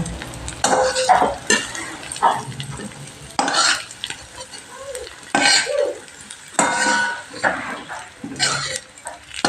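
Potatoes sizzling in a pan as they fry to reddish-brown, with repeated bursts of stirring and clanking utensils, close up, the frying hiss rising and falling irregularly.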